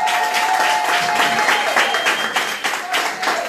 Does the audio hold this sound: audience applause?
yes